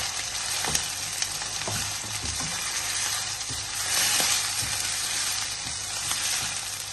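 Goat kidney with lemon frying in masala, a dense continuous sizzle with repeated scraping stirs of a spatula, close and fairly loud, no voices.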